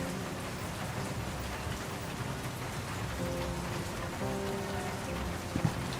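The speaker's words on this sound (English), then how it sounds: "The rain beats against the office window." Steady, soft rain patters against an office window in the World of Goo 2 game, a dense even wash of drops with a faint tonal hum and a small tap near the end.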